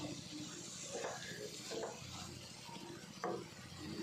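Vegetable thoran made with banana flower sizzles softly in a pan while a spoon stirs it now and then, giving faint scraping strokes over a low, steady frying hiss, with quiet voices in the background.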